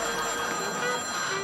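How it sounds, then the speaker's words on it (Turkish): Telephone ringing indoors with a steady electronic tone, fairly loud and close, for just over a second with no one talking over it. "Dur, telefon."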